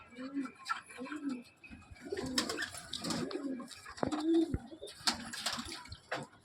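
Pigeons kept in a fully closed room coo in repeated low rolling phrases, near and clear, while a voice talks intermittently over them and faint rustles sound in the background.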